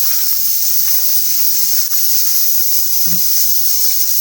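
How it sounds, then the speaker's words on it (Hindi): Garlic ginger paste frying in a pan while making moong dal chicken. It gives a steady, loud sizzling hiss throughout with a few faint clinks. "तो लहसुन अदरक के पेस्ट को हम भून लेंगे"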